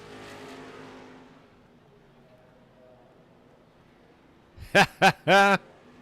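Street stock race cars at Lanier Speedway: a distant engine roar fades into commentary, then three loud, close passes of screaming engines roar by in quick succession.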